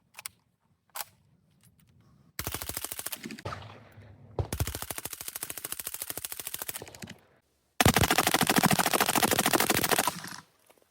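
Suppressed MKE AP5-SD fired with a Lee Sporting lower, delivering several long, loud full-auto bursts of rapid, evenly spaced shots, each burst cutting off sharply, preceded by a couple of isolated clicks.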